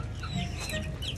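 Chickens at an old farmhouse cluck softly and continuously while waiting to be fed, a low busy murmur of fowl close by with no talking.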